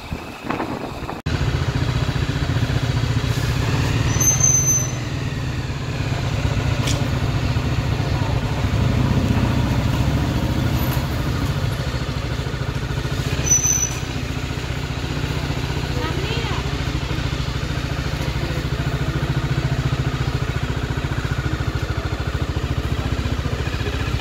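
A motorcycle rides beneath a bridge on the way to Dakshineswar, its steady mid-pitched engine drone running continuously under loud road and wind rumble, with a person talking over it.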